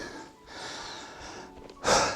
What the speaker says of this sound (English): Forgive my panting, everyone.